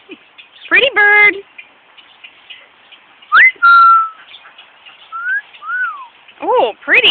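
A pet parrot whistles in short bursts, loud and close, with rising and falling tonal notes, a rapid warbled phrase and harmonic chirps separated by brief pauses, over a faint steady background hiss.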